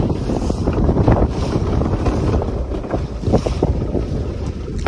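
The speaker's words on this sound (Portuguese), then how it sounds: "Olha só o tamanho das ondas" A boat moves slowly through big, rough sea waves, with steady engine and water rumble, wave wash and strong wind buffeting the microphone throughout.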